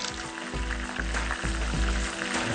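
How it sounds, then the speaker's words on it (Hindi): Fish frying in a pan, a steady dense close sizzle with crackling throughout and a low stove rumble beneath. "ये जी फ़िश हो गई फ्राई, इसको मैं यहाँ से हटा लूँ।"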